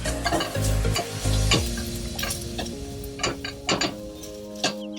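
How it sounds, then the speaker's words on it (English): Potato and green pepper stir-fried in a pan after golden-brown onions, with a steady close sizzle and irregular scraping and clinking of a spatula against the pan throughout. "Now I'm going to add in my green pepper and mix it well."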